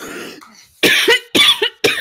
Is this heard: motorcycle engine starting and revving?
no